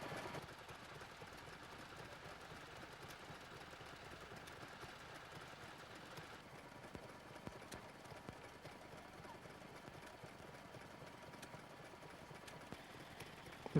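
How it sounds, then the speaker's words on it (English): An open crank International stationary engine drives a water pump through a belt pulley, giving a faint, steady rhythmic chugging with light clicking beats throughout, distant and low in level, without talk. "This open crank International engine is a good example of how the engine can be used to provide power via the belt pulley"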